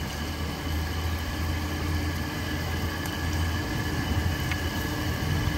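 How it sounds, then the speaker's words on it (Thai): A train runs along the railway beside a roadside market with grilled chicken stalls, a steady low rumble and mechanical drone that carries at moderate distance throughout, with no talking over it. "รถไฟมาพอดีฮะรถไฟจะไปวงเวียนใหญ่"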